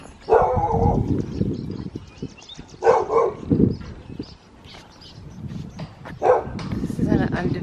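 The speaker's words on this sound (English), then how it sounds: "The dogs do mess up the soundtrack a little bit" Dogs bark repeatedly in bursts, fairly close, mixed with a person talking and some outdoor background noise.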